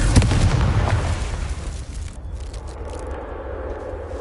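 A Confringo blasting spell detonates in Hogwarts Legacy, a loud booming explosion at the start that rumbles and fades into a decaying crackling tail over several seconds.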